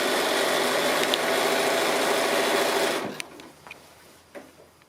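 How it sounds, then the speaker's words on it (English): A sewing machine stitches steadily around the edge of a large fat-quarter drawstring bag, a close rapid whirring run that stops after three seconds, followed by a few light clicks and handling sounds. "I'll just keep going and stitch all the way around"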